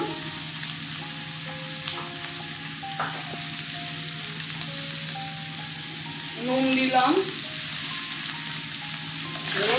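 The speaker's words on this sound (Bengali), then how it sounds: "আলুগুলো ভেজে নিচ্ছি।" Potatoes frying with turmeric and salt in a pan make a steady, close sizzle with occasional stirring scrapes; a voice speaks briefly over the cooking.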